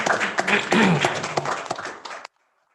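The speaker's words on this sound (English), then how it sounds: "let's give a round of applause for Chief Dixon" Scattered applause for a police chief at a city commission meeting, uneven clapping from a modest group that builds briefly and then cuts off abruptly.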